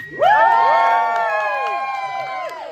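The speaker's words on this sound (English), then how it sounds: "Can I get a better cheer than that?" A crowd cheers and whoops at a film premiere in London, a loud, sudden burst of many high voices that holds for a couple of seconds before easing slightly.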